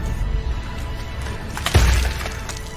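A rifle butt smashes into a zombie's head, landing as a single sharp, loud shattering crash with crunchy debris; brief rumbling ambience leads in and a fading tail follows.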